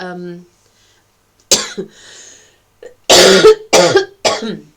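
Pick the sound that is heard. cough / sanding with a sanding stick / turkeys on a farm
cough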